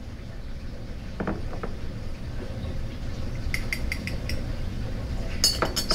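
Glassware clinking as lactase enzyme is added to a sucrose solution: a couple of light taps early, then a quick run of small glassy clinks, and a final sharper clink against a soft room hiss.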